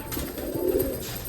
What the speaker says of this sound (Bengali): এই যে দেখো একটা বাচ্চা হয়েছে, এই যে একদম ছোট বাচ্চা